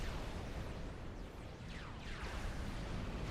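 Cannon fire and explosions from a naval battle in the strategy game Supreme Commander: Forged Alliance Forever merge into a dense, continuous rumbling roar of overlapping blasts. The sound is fairly quiet and has no talking.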